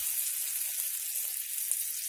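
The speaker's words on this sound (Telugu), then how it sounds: "ఇది పోపు చిటపట్ల అవుతుంది." Popu tempering spices crackle and sizzle in hot oil while chukkakura pachadi is being made, a steady faint frying hiss with scattered light pops and no voices.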